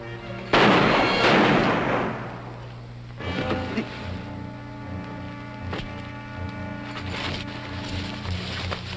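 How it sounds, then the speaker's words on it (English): Gunshots in a 1941 western film: several loud, sharp reports spaced a few seconds apart, each ringing out with a long echoing tail over a steady background. "Must have heard the shots."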